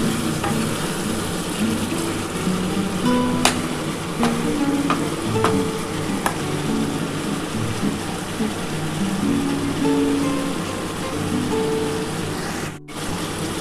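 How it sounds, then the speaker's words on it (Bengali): Onion and tomato frying in a pan for chilli chicken, a steady close sizzle with occasional stirring scrapes and clicks, continuous and without talk. "পেঁয়াজটাও দিয়ে আর টমেটোটা দিয়ে মোটামুটি ভাজা হয়ে এসছে"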